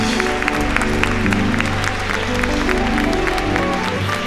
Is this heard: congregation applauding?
yes